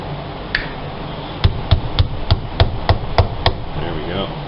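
Sharp metal taps from a nail being hammered against a VW Jetta speedometer gear (2000–2005) to seat it during a differential replacement. About eight evenly spaced knocks come close together in a steady rhythm, with quieter handling noise before and after.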